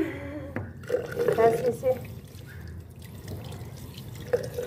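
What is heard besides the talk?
washing hands with running tap water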